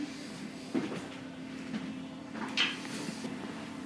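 A house door swings open onto a snowy winter scene, with two faint wooden knocks and creaks and a soft rattle, quiet and close, with no voices.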